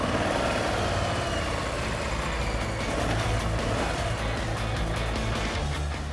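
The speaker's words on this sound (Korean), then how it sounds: "심장을 울리는 강한 엔진 소리와 함께 영혼을 숨쉬게 하는 바이크 라이딩이 시작됐습니다" A steady, loud engine rumbles at idle, deep and constant throughout, with no voices.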